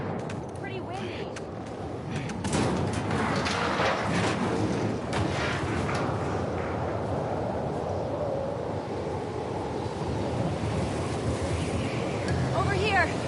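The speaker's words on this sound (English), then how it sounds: "Pretty windy." Strong wind gusts over a cliff top in The Last of Us Part II, a loud, continuous roaring rush with buffeting noise throughout, while characters talk briefly over it.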